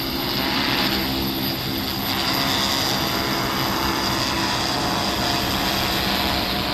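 Agricultural pesticide-spraying drone flying low over farm fields and coming in to land, a loud, steady, close propeller whine and whir throughout without a break.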